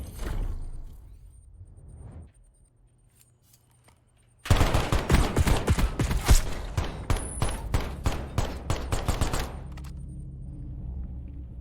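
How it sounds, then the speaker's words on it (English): Gunfire in a competitive video game match, a dense burst of rapid automatic shots lasting several seconds, loud and close, following a quieter lull with faint background sounds. "Trik will go down and bodies are being shot by WETTO"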